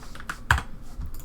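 Soft, light clicks of typing on a computer keyboard, a few quick scattered keystrokes with one slightly firmer tap, fairly quiet and close.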